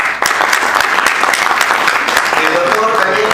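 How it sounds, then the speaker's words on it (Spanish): Loud sustained clapping from an audience at a university law faculty debate on criminal law, filling the room for several seconds with a voice briefly rising over it. "Recibamos de nuevo con fuertes palmas"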